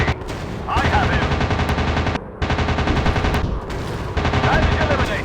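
Rapid machine-gun fire from a WW2 fighter plane in the video game Warplanes: WW2 Dog Fight rattles in long, loud bursts, broken by a brief pause midway.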